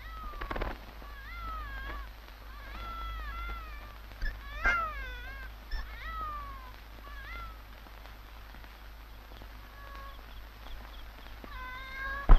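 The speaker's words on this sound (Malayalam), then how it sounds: "ഞാൻ പറഞ്ഞല്ലേ പൂച്ചയായിരിക്കുമെന്ന്." A cat meows repeatedly in a series of short, rising cries, some overlapping, heard fairly close over a steady low hum and light background patter, with a sharp knock at the end.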